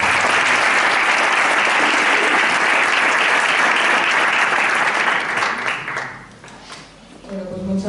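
Audience applause after a talk on the Nativity icon in a parish, dense and steady for about five seconds, then thinning out, with a few voices and a short sound near the end.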